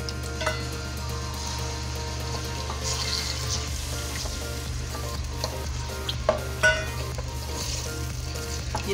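Chopped tomatoes frying in oil for smoked biryani, a continuous close sizzle with occasional stirring scrapes and a faint clink of utensils.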